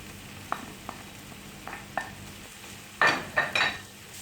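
Carrots tipped into a hot pan and stirred, with a few soft scrapes and taps of a utensil followed by louder bursts of sizzling near the end, close and moderately quiet.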